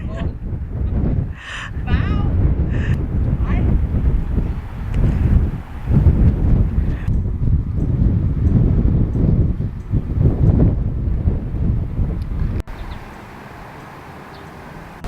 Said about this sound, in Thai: ลมแรงมากมือแข็งหมดเลย